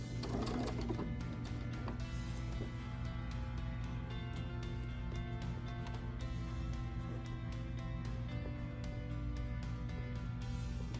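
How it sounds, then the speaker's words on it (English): A sewing machine stitching a quilt binding seam, running in one continuous, steady mechanical hum with rapid needle clatter, close and even for the whole stretch. "You're going to sew your seam from right here, this corner, down to this corner."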